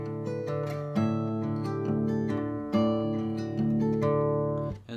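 Fingerpicked guitar playing the intro to a song, a steady rolling pattern of ringing notes, close and clear with no talking.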